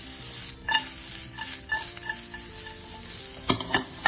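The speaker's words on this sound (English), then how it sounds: "And then after we saute this," Vegetables sautéing in a pan for bibimbap, a soft sizzle under light stirring and a few faint clinks of utensil against pan, quiet and close.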